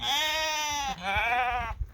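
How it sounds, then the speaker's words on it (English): A Finn sheep kept for wool bleats up close in two long, wavering calls, one straight after the other, on a farm. "These are our Finn sheep."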